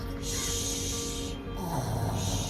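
A storyteller imitates the snoring of a sleepy construction truck, a close, breathy snore with a rising wheezy snort and a descending rumbling exhale.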